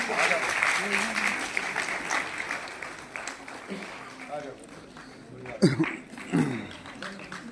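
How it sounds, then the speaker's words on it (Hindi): An audience at a child welfare foundation's anniversary event in Lucknow claps for children receiving scholarships, the applause moderate and fading while a voice talks over it, with a few sharper thumps near the end. "तालियों के साथ आप सभी बच्चों का उत्साहवर्धन करें।"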